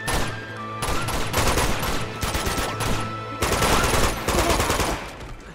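Rapid automatic gunfire from the video game Uncharted 2 rattles in loud, dense bursts that break off briefly and resume, close and continuous with no voices over it.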